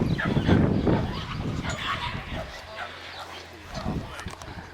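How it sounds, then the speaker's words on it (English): Dogs bark and yip at a campsite, a few short barks and whimpers close by under ongoing talk, fading quieter toward the end. "Dogs everywhere around here."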